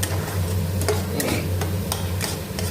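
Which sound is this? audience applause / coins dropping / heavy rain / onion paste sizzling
onion paste sizzling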